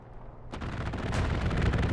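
Aircraft strafing in a combat video game: after a quiet moment, a sudden loud burst of rapid gunfire rolls into a dense, continuous barrage of shots and blasts, with no talking.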